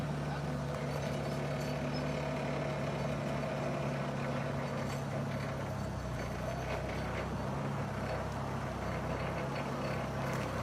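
A customer's truck engine idles close by in a steady low drone with a constant hum, continuing unchanged for about ten seconds.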